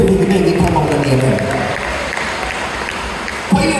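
A church congregation applauds for Jesus, with dense clapping building under a preacher's voice, then continuing as the talking fades.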